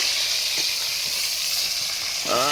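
Pangas fish frying in oil over an outdoor clay oven gives a loud, steady, close sizzling hiss, and a voice briefly cuts in at the end.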